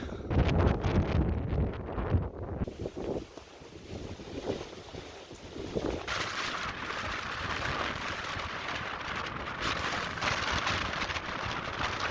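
Strong wind on a full-moon night in Canterbury, New Zealand, buffets the microphone with roaring gusts, a constant rushing noise that swells and settles throughout.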